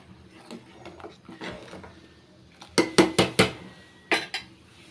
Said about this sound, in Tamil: சேர்த்துட்டு நல்லா மிக்ஸ் பண்ணி விட்டுக்கலாங்க